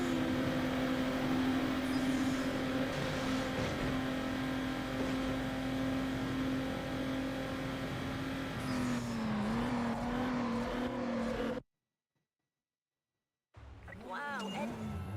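A Honda Integra race car engine in Need for Speed Underground on PS2 holds a loud, steady drone, wavering slightly as it shifts before cutting to a brief silence and returning.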